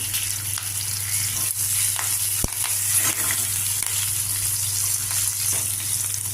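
Chopped onion pieces fry in oil in a pan with curry leaves, green chillies and ginger, giving a continuous close sizzle with a steady hum underneath and an occasional sharp click of stirring.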